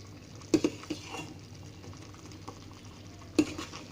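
A spoon stirs thick, jelly-like sabudana payasam (sago pudding) simmering in a pot, making soft scraping and bubbling sounds over a steady low background. Two sharp clinks of the spoon against the pot stand out near the start and one near the end, with no talking.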